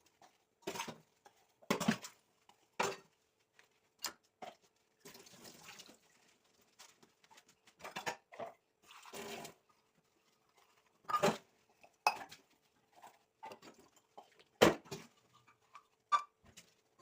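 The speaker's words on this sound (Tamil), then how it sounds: "அதுக்கப்புறம் பாத்திரம்லாம் இருந்துச்சுங்கிறதுனால சோப் போட்டு கழுவிக்கிட்டு இருந்தேன்." Dishes being washed with soap at home, with pots, plates and cutlery clinking and clattering in irregular bursts, close and alone amid faint running-water hiss.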